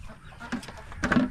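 Chickens cluck and chatter close by at feeding time on a small farm, a few short calls early and a louder burst of clucking near the end.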